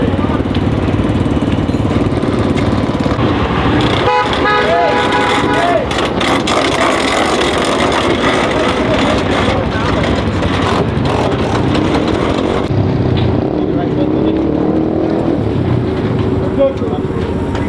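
410 sprint car engine at a Douglas County dirt track roars continuously and loudly, with rough rumbling and engines passing, while crew voices talk over it throughout.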